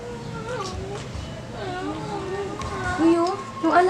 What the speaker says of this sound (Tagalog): Pusa ko kasi ang ingay.